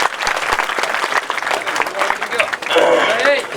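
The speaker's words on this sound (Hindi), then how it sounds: "आपसे अनुरोध है कि आप जोरदार तालियों के साथ स्वागत" Audience applause welcoming a guest at a talent-honouring ceremony in Sarnau, a dense, steady burst of clapping from a crowd, loud and close, with voices mixed in and a brief swell near the end.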